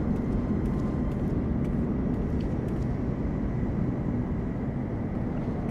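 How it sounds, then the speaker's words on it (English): Airbus A319 airliner at night at LAX airport, a steady, dense engine roar that holds at an even level throughout, with no voices over it. "Oh, Airbus 319."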